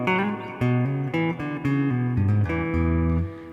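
Clean electric rhythm guitar plays a riff, a sequence of plucked chord stabs and bass notes in a steady syncopated rhythm, close and clear with no talking.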